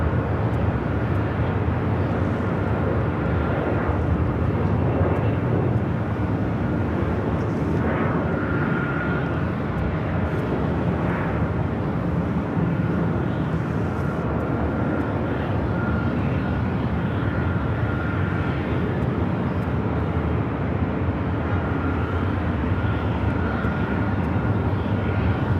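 Jet airliners at LAX, a Virgin Airbus A350-1000 and a British Airways A380, produce a sustained distant engine rumble and whine that drifts gently in level over a long stretch, without voices.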